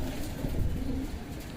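Homing pigeons coo softly and close by in a loft, a low murmuring burble rising and falling over a steady background hum.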